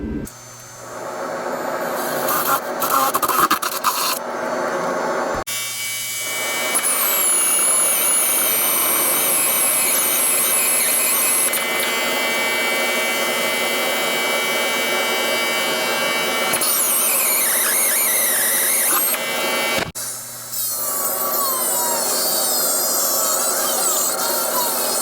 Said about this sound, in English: So I'm gonna drill this real quick,